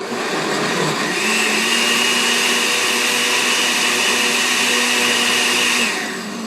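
A Vitamix blender motor whirs up from low to high speed, chopping and blending a smoothie, and runs at a steady high pitch, loud and continuous, then winds down at the end.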